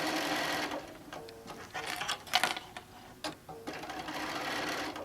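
A sewing machine top-stitches a panel quilt in bursts, a close rapid mechanical chatter that runs, pauses with a few clicks and handling sounds, then runs again; no talk.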